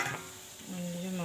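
Meat is being stir-fried (kosha) in a pan for a home-cooked meal, with steady sizzling and the scrape of a stirring spoon close by.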